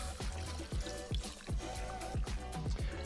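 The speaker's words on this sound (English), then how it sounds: "And strain over that fresh ice." Cocktail strained over fresh ice in a Collins glass, with liquid trickling in and a series of sharp clinks and cracks as the ice shifts, close and fairly loud.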